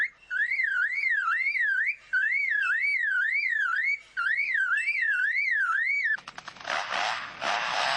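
A bird, likely a lyrebird, mimics a car alarm with a loud, close, rising-and-falling warbling siren repeated in several cycles, followed by a burst of rapid mechanical rattling clicks.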